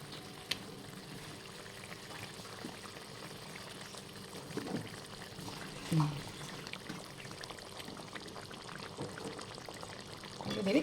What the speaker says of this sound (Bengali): এবার আমি এর মধ্যে একে একে ভেজে রাখা মাছগুলো দিয়ে দেবো